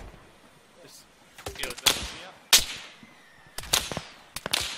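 Artillery and gunfire in a military video game, with sharp cracking blasts in scattered clusters, some close and loud, others more distant, over quiet ambient noise.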